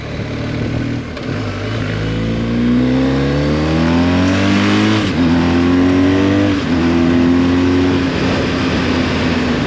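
A motorcycle engine runs steadily and loud, with the pitch rising as it revs up through gears, then dipping and climbing again.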